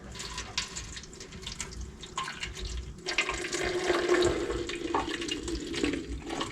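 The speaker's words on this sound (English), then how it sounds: "just gonna pour some vinegar in here, a bunch, just let it sit" Vinegar pours into the fuel tank of a 1974 Yamaha Enduro dirt bike as a steady, close splashing and gurgling stream that grows fuller and louder partway through.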